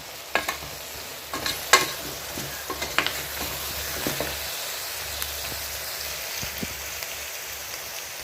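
Curry masala powder is stirred into goat leg soup in a pot, giving a steady scraping, sizzling bubble with soft irregular clinks of the spoon throughout, no talking.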